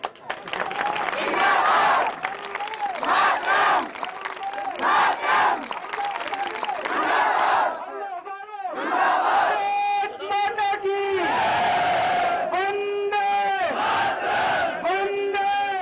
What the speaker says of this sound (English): At the last rally, the Anna team draws a mammoth crowd.